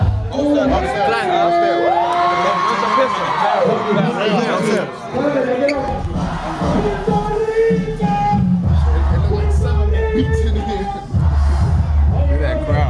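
A thick crowd at a reggaeton concert cheers, whoops and chatters in a loud, dense wash, with nearby voices talking and calling out over the din.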